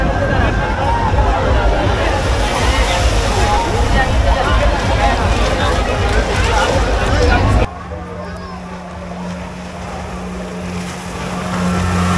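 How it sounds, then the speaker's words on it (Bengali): A speedboat ride on the water at Safina Park in Rajshahi: a loud, close engine roar with water rushing, which drops to a lower idle hum partway through, with voices talking over it. "100 টাকা দিয়ে স্পিড বোট রাইড"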